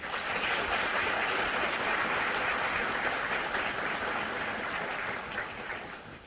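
An audience at a Korean justice minister's inauguration ceremony claps in dense, sustained applause heard from within the hall. It holds steady and full, then thins slightly near the end, with no speech over it.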